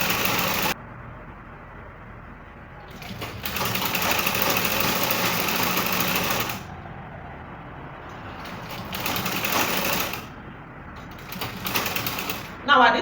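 A sewing machine stitches fabric for a bustier gown in several runs of a few seconds each, with short pauses where the motor stops, loud and close.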